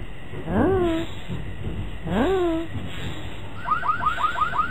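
Alarm sound in the video game Bowja 3 Ninja Kami: two rising, wailing electronic tones a couple of seconds apart, then a quick string of short repeated chirps over low background noise.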